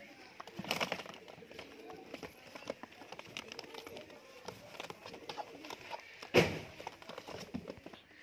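Pigeons kept for sale, high-flyer breed, coo softly in a loft, with faint scattered calls and wing flutters, a sharp clatter near the end, and low background voices.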